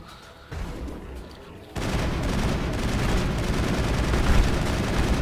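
Gunfire in Mass Effect, a few sparse shots leading into heavy continuous automatic fire with booming impacts, loud and close, persisting to the end.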